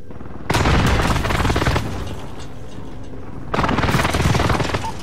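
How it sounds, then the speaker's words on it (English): Two heavy explosion bursts from an enemy precision airstrike in a Call of Duty-style shooter match, each a loud, rumbling blast lasting about a second, separated by a stretch of steady background noise. "Enemy precision airstrike."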